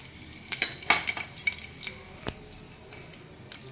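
Cumin and mustard seeds splutter in hot refined oil in a pan, a scatter of sharp pops and crackles over a low sizzle, some metallic clinks, close and fairly quiet, no talk.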